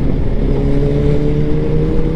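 A superbike's engine hums loudly and steadily as it passes close by on a road ride near Gurgaon, a dense, continuous low rumble with no gaps.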